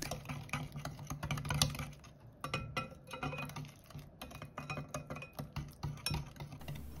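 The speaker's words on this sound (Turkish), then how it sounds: "Bu malzemelerimi çırpıcıyla güzelce çırpıyorum." Cookie dough ingredients whisked briskly in a bowl, a fast stream of metallic clicks and taps as the whisk strikes the sides, close and continuous with no voices.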